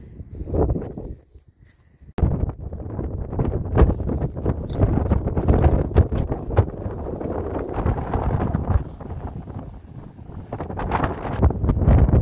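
Strong wind buffets the microphone outdoors on the Aran Islands, Ireland, in a steady, low roar, with a brief lull early on before the gusts return and keep rumbling.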